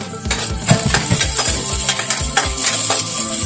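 Garlic and onion sautéing in a hot pan for kangkong stems, a steady sizzle with repeated spatula stirs scraping the pan at a regular pace, close and fairly loud.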